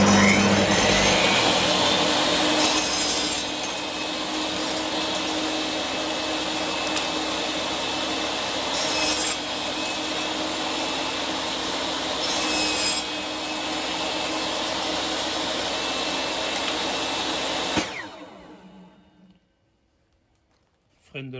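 Metabo TS 254 M 1500W table saw cutting a small piece of pine, a loud continuous whine with brief swells at the cut. It stops abruptly near the end and winds down into near silence.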